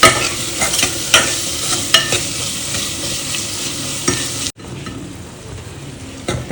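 Tomatoes frying with salt in a cooker make a loud, close sizzle broken by sharp scraping stir strokes about once a second, then the sound drops abruptly to a quieter, softer simmer near the end.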